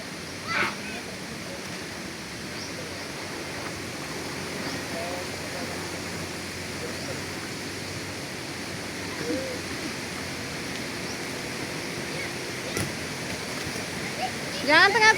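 A swift river at a nature spot in Sindang Panjang, Tanjung Sakti, Pagar Alam, rushing with a steady broadband roar that stays constant throughout, with voices occasionally heard over it.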